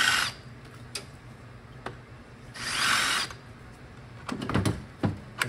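A power drill bores out a stake on an automatic transmission during disassembly of a Toyota Tundra AB60E/AB60F unit, with two loud bursts of drilling separated by short pauses and a clattering of tool handling at the end, with no talking.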